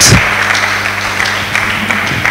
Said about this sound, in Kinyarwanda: Let's clap for the word of God.